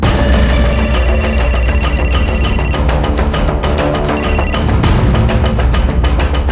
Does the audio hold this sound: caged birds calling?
no